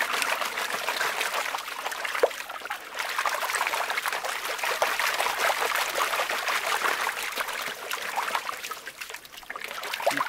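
A bucket gold concentrator swirled back and forth under water sends out a continuous close sloshing and trickling rush of water, steady for the whole stretch with no talking.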